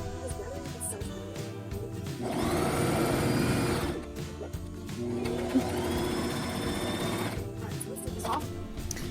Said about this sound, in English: I'm just going to stitch this all the way down, and as you can see, it is gathering itself.